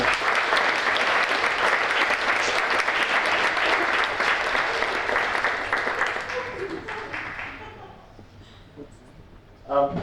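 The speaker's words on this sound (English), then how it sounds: "Let's give him a round of applause" A crowd at a chamber of commerce awards gala applauds the Salem mayor with sustained, dense clapping that fades away over several seconds, leaving a quiet room.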